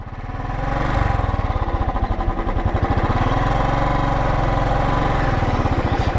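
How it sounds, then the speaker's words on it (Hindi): A TVS Ronin 225 motorcycle engine runs loud and close in a steady, fast, throbbing pulse while a gear is shifted, with the tone easing slightly partway through. "अभी मैं लगाता हूँ गियर"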